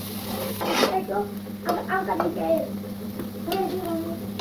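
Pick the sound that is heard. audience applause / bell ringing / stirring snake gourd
stirring snake gourd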